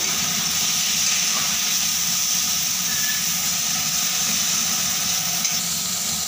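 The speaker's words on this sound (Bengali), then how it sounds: "পরিমাণ মতো নুন দিয়ে ভালো করে মশলাটাকে কষিয়ে নেবো" Spice paste frying in a pan for a fish head and pumpkin ghonto, a continuous loud steady sizzle and hiss close up, with no voices.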